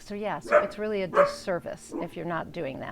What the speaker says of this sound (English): Sorry for the barking puppy.